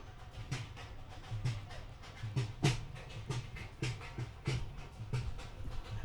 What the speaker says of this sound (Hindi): आप बैकग्राउंड में आवाज़ सुन सकते हैं ढोल बजने की।